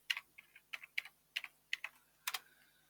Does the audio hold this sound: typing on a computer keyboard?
yes